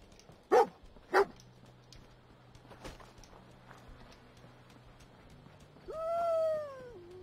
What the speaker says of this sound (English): Playful howl.